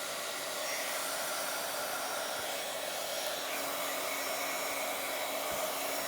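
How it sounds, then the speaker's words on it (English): A hair dryer drying stamped ink blows with a steady, loud whooshing hum close by, running continuously without pause. "I am going to take my dryer and dry this real quick"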